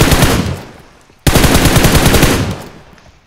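Rapid automatic gunfire in a shooting video game, two long rattling bursts of machine-gun fire separated by a brief pause, loud and close with no talk over it.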